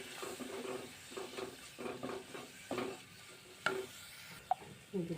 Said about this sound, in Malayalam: നന്നായിട്ട് ഇറക്കി യോജിപ്പിക്കുക.